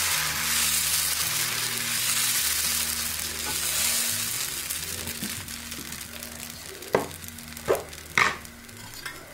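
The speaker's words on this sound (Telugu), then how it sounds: "దోశ ప్యాన్ వేడయ్యాక ఇలా దోశలాగా వేసేసుకోండి" Egg dosa batter spread thin on a hot dosa pan sizzles steadily and close by, with a few sharp clinks of a utensil near the end and a low tonal hum underneath.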